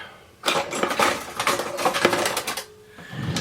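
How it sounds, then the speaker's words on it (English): Egg being whisked in a bowl for a chicken fried steak dredge, a rapid run of clattering, ticking strokes lasting a couple of seconds, close and fairly loud. "We're going to get this whisked, and this is our dredge."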